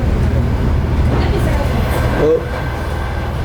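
Russian passenger train moving at moderate speed, a steady loud rumble and rattle heard from inside the carriage, with a person speaking briefly near the end.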